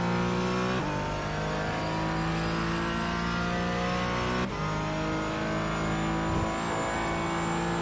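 GT race cars, a McLaren and a Porsche, accelerate hard out of a corner at Hockenheim in the iRacing sim, engines revving up with distinct gear shifts and a steady high whine, loud and without talk.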